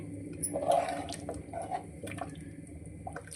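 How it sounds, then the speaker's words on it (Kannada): Water poured into a pot of simmering sambar on a home stove. A short, close splash and trickle of liquid swells near the start, then fades into low bubbling and soft kitchen sounds. "ಇನ್ನೊಂದು ಸ್ವಲ್ಪ ಅದಕ್ಕೆ ನೀರು ಹಾಕ್ತಾ ಇದ್ದೀನಿ."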